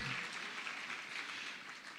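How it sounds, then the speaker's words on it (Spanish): A church congregation applauds, a dense steady wash of many hands clapping together at close range, sustained without a break throughout. "Aplaudan y digan amén mientras puedan"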